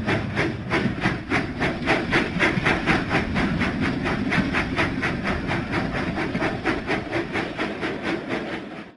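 A cartoon steam engine from a Thomas and Friends children's video game chuffs down the track in a rapid, even series of puffs, loud and continuous before fading out at the end.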